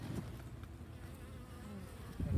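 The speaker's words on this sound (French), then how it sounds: "ce sont des abeilles noires" Black honeybees buzz steadily near the entrance of a hive as foragers return with pollen, a continuous low drone close by, slightly louder at the end.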